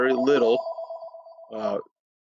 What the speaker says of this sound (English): the phone going off.